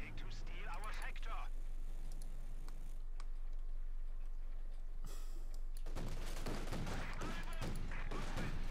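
A Flak Panzer's rapid anti-aircraft gunfire in Company of Heroes 2 erupts in a loud, dense burst near the end, following a stretch of battlefield ambience under steady commentary.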